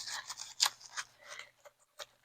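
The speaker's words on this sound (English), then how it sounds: "And you just slice down, get your pieces of cabbage going." A knife slices through cabbage in a few crisp, crunchy cuts, close and fairly loud, with sharp bursts that thin into sparse clicks.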